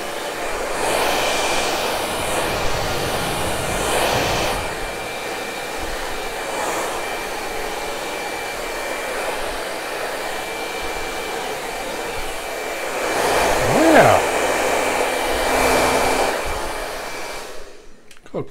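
Hair dryer blowing steadily on a dog's coat during grooming, a continuous loud whooshing airflow with a brief surge in intensity near the end before cutting off.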